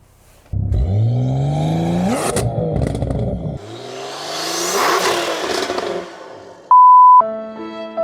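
A BMW M240i on a launch-control start, with suspected clutch slip as it jumps out of gear: the engine snarls up in rising revs, drops, then climbs again, followed by a sharp electronic warning beep near the end.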